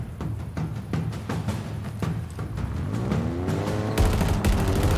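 A mounted gun in Halo Infinite fires in rapid, sharp repeated shots, close and punchy. A vehicle engine hum rises beneath the bursts toward the end.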